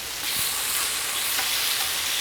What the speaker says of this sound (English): you see how fast that shrimp is cooking